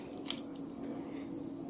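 Scissors picked up and handled among grooming tools like combs, brushes and a spatula for a house-call grooming kit, giving a soft metallic click or two, faint and brief in a quiet room.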